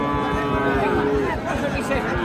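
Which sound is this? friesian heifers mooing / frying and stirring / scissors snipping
friesian heifers mooing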